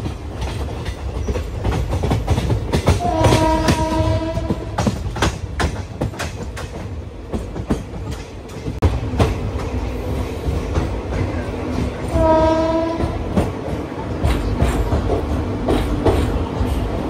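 A sleeper-class passenger train nears Ballarshah station on the Dehradun–Charlapalli route, with loud rhythmic clickety-clack of wheels over rail joints and two brief squealing tones, heard from inside the moving coach.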